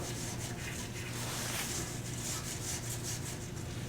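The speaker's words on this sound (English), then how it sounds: "So I'm going to take a brass brush. I'm going to clean these up as much as I can." A brass brush scrubs sawdust off the rubber tire of a bandsaw wheel in rapid back-and-forth strokes, a close, dense, even rasping that continues without pause.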